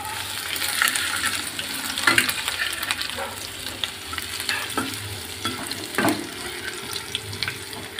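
Chopped ginger sizzles in hot oil tempered with cumin seeds, a continuous soft frying hiss broken by intermittent stirring scrapes and clinks, close up and fairly quiet.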